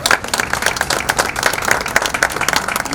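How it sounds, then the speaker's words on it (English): Audience at a Brooklyn health foundation open house claps in a brisk, uneven burst of applause, close and fairly loud, with individual hand claps standing out in the mix. "Please, a round of applause for our Brooklyn Borough President, the Honorable Antonio Reynoso."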